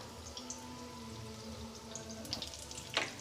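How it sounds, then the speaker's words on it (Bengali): Bora fritters for motichur laddu fry gently in hot oil, a steady soft sizzle running throughout with a brief clatter near the end. "খুব সাবধানে হালকা করে বড়াগুলোকে ভাজতে হবে, খুব লাল লাল করে নয়, হালকা হালকা করে সুন্দর করে ভেজে নিতে হবে।"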